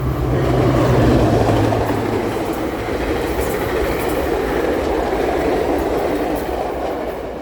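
A Metro train passes close by, a loud steady roar of wheels and rail rumble with rhythmic clacking that swells early and slowly eases, no voices over it.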